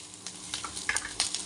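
Pointed gourd fried with turmeric and salt sizzles in a pan as a spatula stirs it, giving quick scraping clicks over a soft constant hiss, close and moderately quiet.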